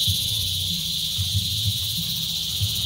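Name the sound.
crickets chirping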